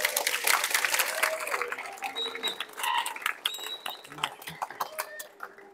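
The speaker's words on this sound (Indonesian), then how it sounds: "Tepuk tangan buat kita semuanya." Students at a school assembly at SMK Muhammadiyah Salatiga break into a burst of applause that thins out over several seconds, with chatter and voices rising through the fading claps.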